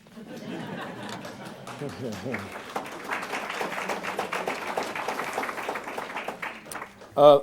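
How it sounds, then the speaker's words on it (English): Audience applause with chatter and light laughter at a school program event honoring Cleveland students, a broad steady wash of clapping lasting several seconds, mixed with crowd murmur, then a sharp louder burst near the end. "Yes, go right ahead, clap."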